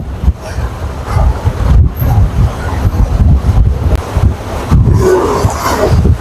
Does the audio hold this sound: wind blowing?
yes